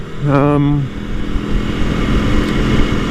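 A 2018 Aprilia Tuono Factory motorcycle is ridden on a sunny road. A brief voice comes first, then a steady rush of engine and wind noise.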